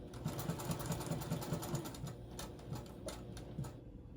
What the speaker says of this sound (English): I'm sewing this on